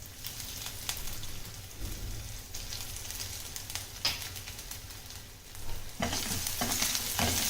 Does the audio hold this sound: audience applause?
no